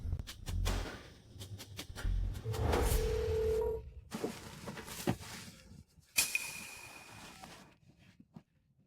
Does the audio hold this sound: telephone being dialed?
yes